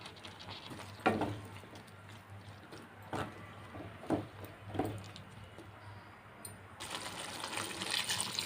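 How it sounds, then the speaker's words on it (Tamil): Water is poured from a mixer jar into a cooking pan of sautéed onions and chopped capsicum for a paneer capsicum dish, a steady close splashing pour with a few louder splashes. "மிக்ஸி ஜாரில் கொஞ்சம் தண்ணி ஊற்றி அதை ஆட் பண்ணியிருக்கேன்."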